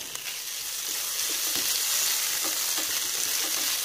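Chicken breast sizzling and stir-frying in a pan with sweet peppers, a bright continuous hiss of hot oil with occasional stirring scrapes, close and alone.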